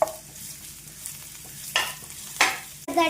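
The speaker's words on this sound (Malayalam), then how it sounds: "നമുക്ക് ഗാർലിക് ഇട്ട് കൊടുക്കാം നന്നായിട്ട് മിക്സ് ആക്കാം" Garlic stirred into a frying pocket chicken mixture, a low sizzle in the pan broken by three sharp scraping stirs, each louder than the last, with no talking.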